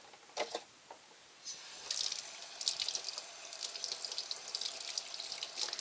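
Firm tofu rinsed under a running kitchen tap, water streaming steadily into a sink with splashing that swells as the block is moved beneath the flow, close and continuous with no talking.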